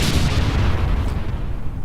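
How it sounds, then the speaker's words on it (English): Loud, rumbling video game explosions in Kerbal Space Program roll together into a dense, booming burst that fades slightly toward the end. "Explosions! There are explosions going on."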